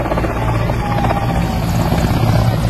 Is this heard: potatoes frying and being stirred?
no